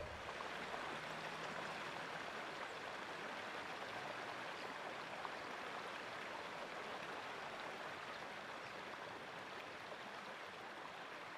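A brook runs past a saltworks, its steady, even wash of flowing water continuing close and unbroken throughout with no voices.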